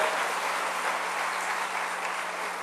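A congregation at a church service claps steadily, a broad, sustained wash of applause from many hands with no talking over it.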